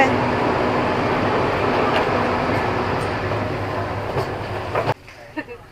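Steady rumble and roar inside a moving train between Bangkok and Nong Khai, a constant broad noise with faint rail clicks, which drops off abruptly near the end.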